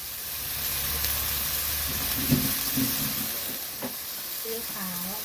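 Beef with curry paste is stir-fried in a hot pan, giving a steady close sizzle with scraping stirs throughout and a voice briefly heard near the end.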